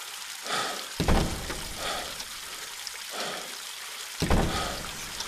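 Shower water runs in a horror video game, splashing in repeated pouring surges that swell and fade roughly every second, close and alone with no voices.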